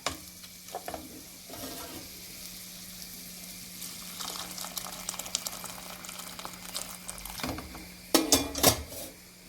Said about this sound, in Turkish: Şimdi suyumu ilave ediyorum.